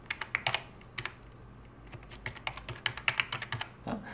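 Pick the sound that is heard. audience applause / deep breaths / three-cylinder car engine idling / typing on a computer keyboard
typing on a computer keyboard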